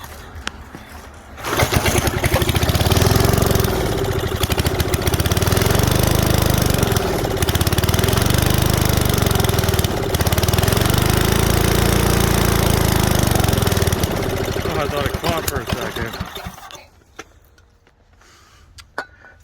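Billy Goat windrow blower found at the curb, its small gas engine catching and running loud and close for about fifteen seconds, the revs wavering in slow surges before it dies away to quiet.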